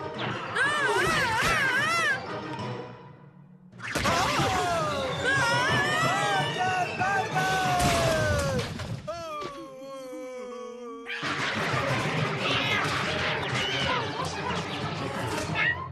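A cartoon cat meows in drawn-out, wailing cries in the Telugu-dubbed animated series Kid vs Kat, mixed with human voices, one imitating the cat's cry in a sliding, whining tone.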